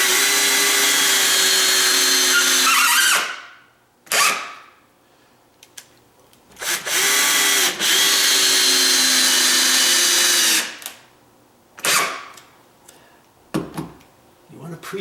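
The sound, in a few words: power drill driving screws into wooden door jamb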